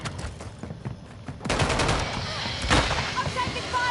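Gunfire in a video game, with faint game noise first and then a loud burst of automatic fire that continues in rapid volleys to the end.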